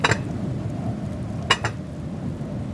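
A few sharp clinks of food-filled dishes and a bell-metal plate set down on a table, one near the start and a quick pair midway, over a steady low background hum.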